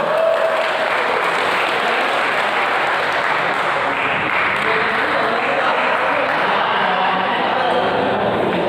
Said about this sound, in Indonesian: silakan kita kasih aplaus